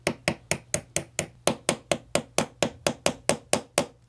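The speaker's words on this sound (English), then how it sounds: "I'm going to be using the 1/16 inch punch on the bench block and removing this roll pin." About seventeen sharp, evenly spaced hammer taps drive a 1/16 inch punch against a roll pin on a bench block while removing a Ruger MAX-9 pistol trigger, close and crisp.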